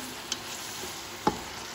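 Onions frying in a pan for mandi rice, a faint steady sizzle with two brief scrapes of stirring spaced about a second apart.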